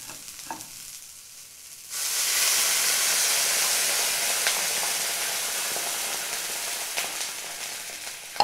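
Chicken soup with stock in a pot comes to a boil, a steady loud hiss and bubbling that starts abruptly after a quiet moment and continues evenly.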